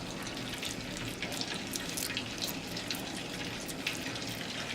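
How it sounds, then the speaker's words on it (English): Butter sizzling in a hot pan while cooking crab cakes, a steady crackling hiss with fine pops running throughout, close and fairly quiet with no talk. "The butter is sizzling in that bad boy"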